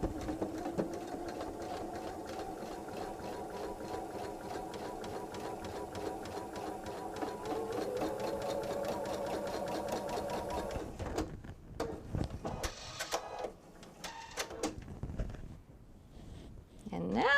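Sewing machine running steadily to sew a seam along a fold for a bench pillow, a dense, even mechanical whir for about eleven seconds, then stopping, followed by soft handling clicks and rustles.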